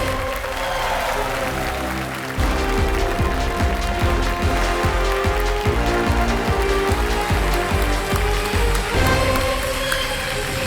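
A dense wash of TV quiz show studio audience clapping runs continuously, loud and even, over a pulsing low musical beat.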